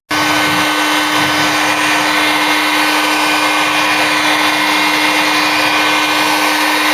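An angle grinder fitted with a 1 mm cutting disc slices through a steel car body panel on a Mk3 Ford Cortina under restoration, giving a loud, steady high-pitched whine that runs unbroken from start to finish.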